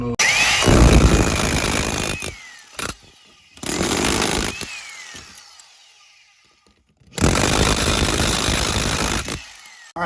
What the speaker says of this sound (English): I'm gonna have to use the chipping hammer to get a little bit of that out.